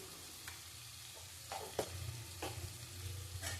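Amudi fish fry with Kashmiri chili powder, salt and spices in a pan, sizzling steadily under repeated stirring scrapes and spatula knocks, close and moderately loud.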